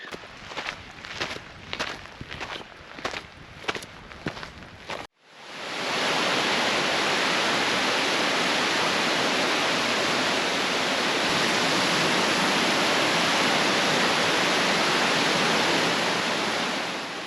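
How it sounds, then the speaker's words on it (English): Plaikni Falls in Crater Lake National Park roars as a loud, steady broadband rush of falling water, close and continuous; it follows a few seconds of quieter footsteps on a trail. "We were rewarded by a beautiful waterfall, Plaquemine Falls."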